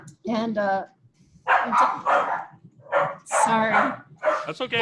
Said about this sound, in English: I love the sound of doggies